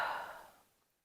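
A single soft exhaled breath taken during a yoga twist, heard close and alone, starting fuller and fading away over about a second with no talk.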